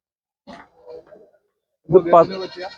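Goats at a livestock market in Chattiparamba, Malappuram, give a couple of faint, brief calls, followed by a louder, fuller bleat near the end.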